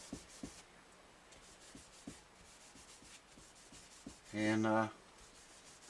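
Linseed oil being rubbed by hand into a guitar fretboard, soft close scrubbing strokes with faint periodic taps, quiet and steady, with a brief burst of louder noise near the end and a voice speaking a word.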